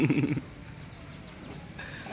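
A brief burst of a hen clucking at the start, close and fairly loud, followed by quiet background noise and faint chirps.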